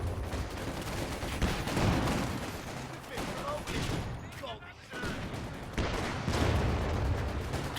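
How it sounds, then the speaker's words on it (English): Scattered machine gun fire and distant battle blasts ring out in a Company of Heroes 2 match, coming in uneven bursts that swell and fade while a commentator talks over them. "a bit of machine gun fire"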